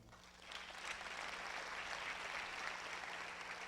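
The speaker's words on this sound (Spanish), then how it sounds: "Dele palmas al Señor." A church congregation claps steadily for the Lord, a continuous, even wash of many hands heard from a little distance with no pause.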